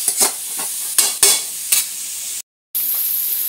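Shrimp paste (alamang) sizzles in a hot pan for Bicol Express while a utensil scrapes and stirs it in repeated strokes, close up, with a brief cut to silence partway through.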